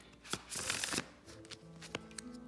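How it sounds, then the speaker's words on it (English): A deck of tarot cards is shuffled close by in a quiet room, with a quick riffling burst followed by a few lighter card taps and slides. "Shuffle once more for you guys."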